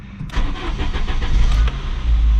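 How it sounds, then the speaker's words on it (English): A Saab 9000 car engine cranks briefly and then catches, settling into a loud, rumbling idle close by. "we can go about our test drive"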